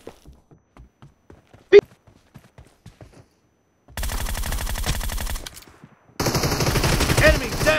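Gunfire in a shooter video game: after scattered faint ticks and one sharp crack, two sustained bursts of rapid automatic fire, loud and close.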